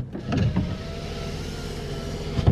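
Power windows of a 2007 Hyundai Santa Fe whir in a short motor run, with faint clicks at the start and a soft thump as the glass stops at the end, close and fairly quiet.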